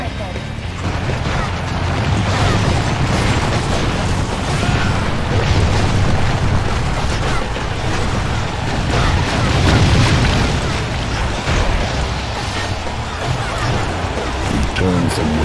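Cannon fire and explosions in Kingdom Under Fire: The Crusaders, with a dense, loud, continuous battle rumble of booms and blasts running throughout, partly under voices speaking.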